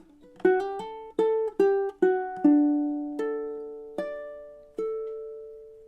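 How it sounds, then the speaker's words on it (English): Ukulele picking a short melodic phrase from a song, about eight bright plucked notes or strums spaced unevenly, each ringing and fading, played alone and close with no voices. "here's measures 11 and 12 together."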